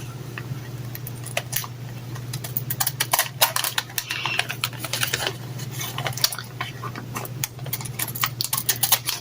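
Scissors trim excess paper and cardstock from handmade fairy princess ephemera in a long run of quick, close snips and clicks over a steady low hum.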